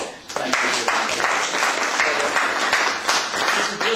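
An audience at an annual health and safety meeting of a British pilgrims' association breaks into loud, close applause that starts abruptly and stays full and continuous throughout.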